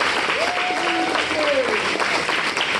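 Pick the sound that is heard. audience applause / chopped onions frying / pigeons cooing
audience applause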